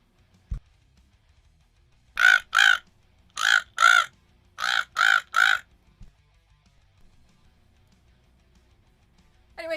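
A human voice imitates crow caws: seven harsh, loud caws close by, in a pair, another pair and then a quick group of three, with silence around them.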